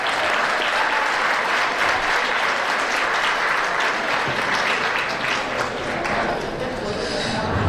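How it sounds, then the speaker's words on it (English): A gala audience applauds loudly and continuously, a dense roar of many hands filling the room throughout, with faint voices mixed in. "let's give a rousing applause to all the other VIPs"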